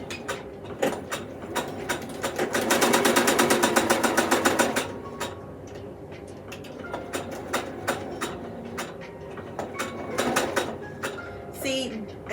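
A sewing machine stitches across the thick seams of a quilt, giving a fast, steady mechanical chatter that swells loud and dense for a few seconds, then breaks into shorter bursts of rapid needle ticks with pauses between them.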